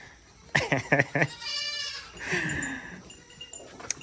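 A goat bleats close by in a few short wavering calls, with a stuttering start and a longer drawn-out bleat, loud against a quiet farm background.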